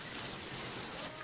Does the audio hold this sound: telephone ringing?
no